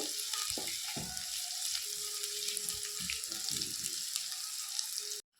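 Mutton for chukka sautés in a pan with a steady, close sizzle. Spoon-and-pan clinks and stirring scrapes break in at intervals.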